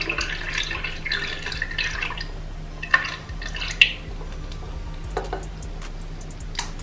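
Onion decoction is poured into an applicator bottle, giving wet trickling, dripping and splashing sounds with a few sharper plops, fairly close.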